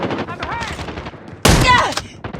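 Shotgun fire in a first-person shooter video game: a busy mix of gunfire and game effects, with one loud close blast midway followed by a tumbling burst, and faint game voices underneath.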